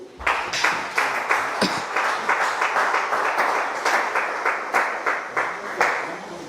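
A church congregation at an evening worship service applauds together, steady crowd clapping with rhythmic accents throughout, fairly loud and with no talk.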